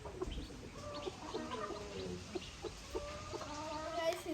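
Newborn chicken chicks peep in faint, repeated high chirps, some overlapping, close by in a quiet setting.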